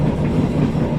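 The KA Tegal Bahari passenger train runs at speed through Cikampek station, a loud, steady rumble with rhythmic wheel-on-rail clatter heard from on board, with no voices.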